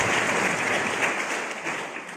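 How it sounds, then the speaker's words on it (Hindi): Audience claps for Afzal Raza at a gathering: a short burst of steady applause from a group, fading slightly toward the end. "अफजल रजा साहब के लिए भी तालियां होनी चाहिए"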